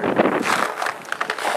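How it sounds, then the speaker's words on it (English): Strong wind buffets a microphone on a snowy hotel-room balcony in freezing cold, a steady rough broadband roar with gusty surges, close and loud throughout. "It is very windy, as you can hear"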